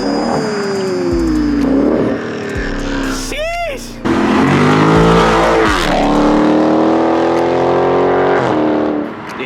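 Dodge Charger Daytona exhaust fitted with race bullet resonators revs loudly in repeated deep rising bursts and a sustained rumble, close by, while people talk excitedly over it.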